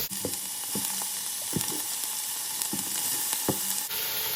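Beef and bacon sizzle as they brown in a stew pot, a steady hiss of frying fat broken by several clinks and scrapes of stirring, then a brief tonal shift at the end.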